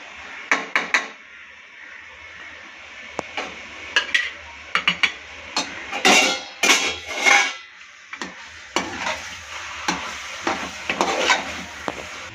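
Chicken bhuna masala being stirred in a pan, with a spoon scraping and clinking in irregular bursts over a low, steady frying sizzle, fairly close.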